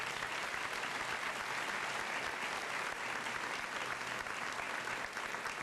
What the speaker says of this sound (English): Let's give those students a round of applause.